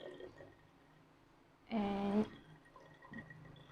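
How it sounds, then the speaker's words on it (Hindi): Water poured into a bottle partly filled with oil makes a brief half-second gurgling fill whose tone rises as the bottle fills. It is heard up close against quiet room sound, with a faint spoken word nearby. "मैं इससे हाफ़ थोड़ा सा पानी डालूंगी"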